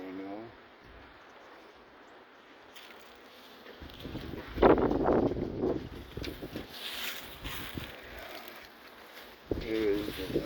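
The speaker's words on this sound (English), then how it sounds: "It's a little windy today." Wind gusting outdoors around a property where a Ranger utility vehicle is parked, a steady rushing buffet on the microphone that swells in the middle, with voices talking over it.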